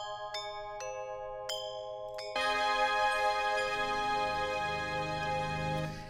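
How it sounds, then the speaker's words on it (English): Real gamelan with a gritty, higher-range timbre: a few separate struck metallic notes ring out, then a dense shimmering wash of many bronze tones sustains loudly, with no talking. "the real gamelan, which is a lot, you know, a lot more gritty and has that higher range"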